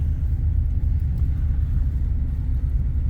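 A vehicle rolls down a mountain ridge road in Idaho, a steady low engine and tyre rumble that fills the whole stretch, close and continuous with no talking.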